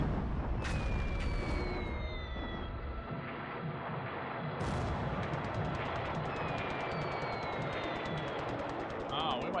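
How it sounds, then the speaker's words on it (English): Bombs burst against merchant ships in a World War II naval strategy game, low rumbling blasts and rolling booms playing over steady game noise while someone talks throughout. "It's only bombs, but bombs will rip Merchants apart."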